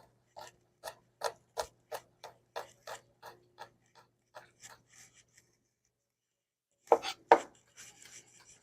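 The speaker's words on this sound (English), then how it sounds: "you're just going to take it and mince it really, really well" A knife minces crushed garlic on a cutting board in a home kitchen, with about a dozen sharp, evenly spaced chops that slow and soften, a pause, then a few louder chops.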